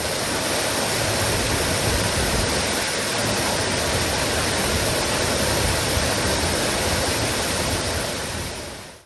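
Hidden Falls in Hocking Hills, a 15-foot waterfall in winter, pours as a steady, even rush of broadband water noise for several seconds with no voices.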